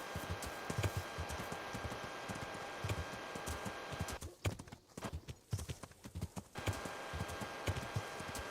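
Rhythmic clip-clop of horse hooves trotting steadily in the video game Kingdom Come: Deliverance, close and clear, with a brief irregular stretch midway before the even gait resumes.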